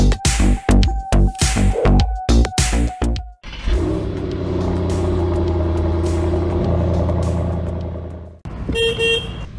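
A Volkswagen car drives past fitted with dynamic spinner hub caps. It opens with a rapid series of sharp, loud transient knocks, then settles into a sustained close engine and road roar that fades away, and a short tonal burst follows at the end.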